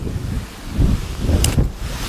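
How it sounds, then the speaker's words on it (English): Strong wind buffeting the microphone in low, rumbling gusts at a fishing lake match, rising and falling, with a faint short clink partway through. "The trouble is, it's very windy as well"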